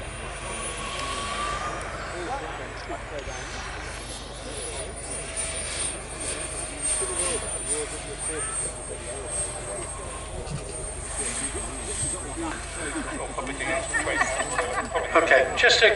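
Model aircraft engines drone continuously at an outdoor model air show with a wing-walker biplane display, a steady buzzing that rises toward the end, with a public-address voice over it.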